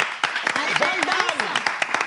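Audience applause for a guest at a French-language event, brisk clapping from a smallish crowd with a voice talking prominently over it.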